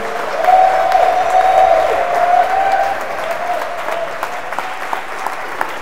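A church congregation claps together, a dense, even burst of applause that stays strong for several seconds, then eases off slightly while continuing to the end.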